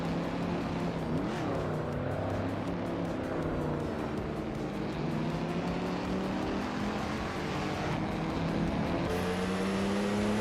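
Race car engines in a racing video game, a steady wall of whining, revving motors with pitch sweeps as cars run nose to tail, constant and loud throughout.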